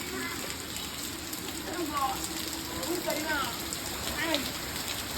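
Rain falls steadily at a home, a continuous broad hiss of drops on surfaces, moderately loud and even across the whole stretch, with faint voices and calls now and then under it.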